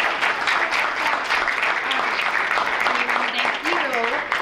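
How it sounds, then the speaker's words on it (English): A school board meeting audience gives the children a dense, steady round of applause, with a few voices calling out over the clapping toward the end. "Can you give them a round of applause?"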